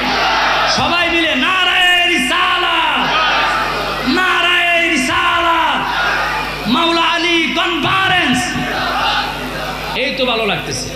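A large religious gathering shouts the takbir in unison, with a lead voice calling and the crowd answering in loud, repeated chanted waves, close and full throughout.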